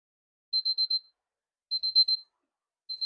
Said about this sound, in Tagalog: ayun na yung timer